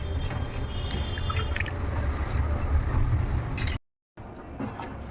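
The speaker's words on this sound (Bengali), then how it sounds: "এখন এই চালটাই এই যে এইভাবে ছেঁকে ছেঁকে এর মধ্যে দিয়ে দেব" Soaked rice is strained and tipped into a pot of boiling water, giving a loud, close wash of bubbling and splashing liquid with a few wet drips, then a brief dropout before the boiling resumes.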